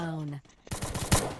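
A voice speaks briefly, then a short burst of rapid gunfire from a shooting video game follows, several close, punchy shots in quick succession during a headshot.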